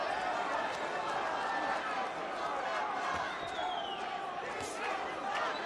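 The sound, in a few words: Puerto Rican boxing crowd chanting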